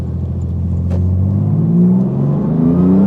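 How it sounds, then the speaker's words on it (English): A Porsche 911 GT2 RS turbocharged engine revs under throttle from inside the car, a loud steady drone climbing in pitch as it builds, with one brief higher whoosh early on. "Let's give it some throttle again here."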